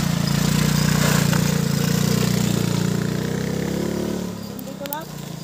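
A motorcycle engine runs steadily on a steep uphill mountain trail, close and loud for most of the stretch before easing off near the end, with a few faint voices alongside.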